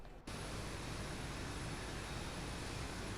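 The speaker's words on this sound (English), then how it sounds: "Engine number 2 is spinning." A Boeing 737-800 jet engine in X-Plane 11 spools up out of quiet into a loud, steady broadband roar with a thin high whine running over it, sustained and even throughout.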